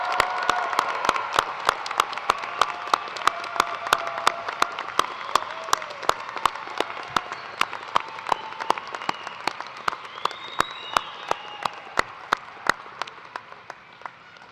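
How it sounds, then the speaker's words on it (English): An audience at a spring college of law commencement ceremony gives the graduates a sustained round of applause, with dense clapping and scattered sharp individual claps that slowly fade toward the end. "I'd like one last really, really, really loud round of applause for our graduates."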